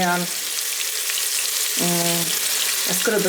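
Chopped onion sizzles on the stir-fry setting of an electric pressure cooker with a steady, close hiss. Someone speaks over the frying in short bursts.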